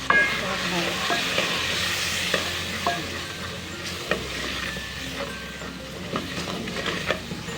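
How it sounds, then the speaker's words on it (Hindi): Spices stirred into ginger garlic paste frying in a pan for khatti daal, a steady sizzle with repeated scraping strokes of a spoon close by, no talking. "अब हम इसमें अपने तमाम मसाले, ये देखें हम अपने इसमें तमाम मसाले शामिल करेंगे। अब इसे मिक्स करेंगे हम।"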